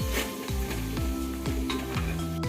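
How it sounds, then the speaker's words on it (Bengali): Chicken pieces fry in a pan with ginger garlic paste for a yakhni white biryani, a steady close sizzle with periodic stirring scrapes and light clinks of a utensil against the pot. "আমি একটু খুব ভালো করে ভেজে নিচ্ছি যাতে আদা রসুনের কোনো গন্ধ না থাকে"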